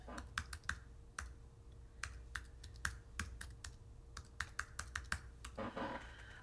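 Typing on a computer keyboard, irregular bursts of crisp key clicks at close range, quiet and alone with no talking.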